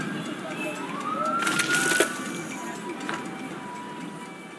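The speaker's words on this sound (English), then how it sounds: "Why is there a siren over there?" In the video game Tropico 6, a siren wails faintly with a rising tone during a protest, set against a busy ambient backdrop with chirping birds. It swells briefly, then fades.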